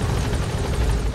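Rotor drone and engine whine of a helicopter in the game Metal Gear Solid 5: The Phantom Pain, a steady, loud, close wash of chopping noise filling the whole moment with no talk.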